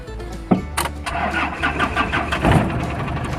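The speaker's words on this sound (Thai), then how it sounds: "นี่สตาร์ททีเดียวติดนะ สตาร์ทง่ายนะครับ" An Isuzu TFR pickup truck engine cranks briefly and catches at once, then settles into a steady idle with small revs, close and loud.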